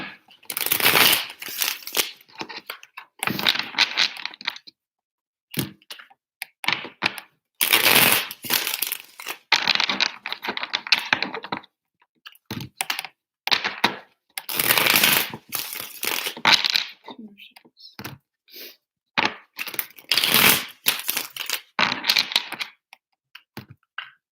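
Tarot cards being shuffled by hand in repeated bursts of riffling and slapping, close and fairly loud, with short pauses between rounds.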